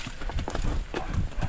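A horse hauling harvested rice (palay) clip-clops along with quick, uneven hoofbeats, close and fairly loud, with faint background sounds and no clear talk.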